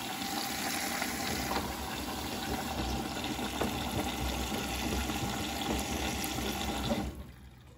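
A Bosch washing machine fills with water at a 40-degree wash, giving a steady close gushing and rushing flow with faint clicks, running for about seven seconds before dropping away, with no talk.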